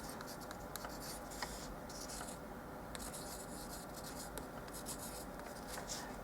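A Bic and a Sharpie, both alcohol-based markers, scratch and rub faintly across a wood surface in short strokes with brief pauses, close and quiet, with no voice.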